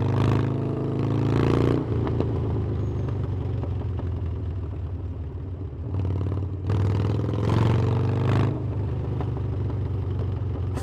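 A Harley-Davidson Forty-Eight's air-cooled engine idles with a deep, loud rumble and is revved twice, each rev swelling into a rough, throaty roar before dropping back to idle.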